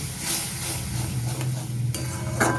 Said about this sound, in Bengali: এবারে আমি খুব ভালো করে কষিয়ে নেব